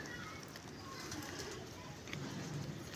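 Pet pigeons coo softly in a steady low murmur, close by, with some background noise and a voice faintly underneath.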